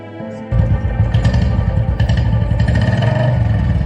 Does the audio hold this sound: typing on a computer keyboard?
no